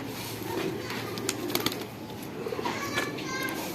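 Shahjahanpuri pigeons coo softly in a loft, their low calls coming through a busy background with faint children's voices and people talking nearby.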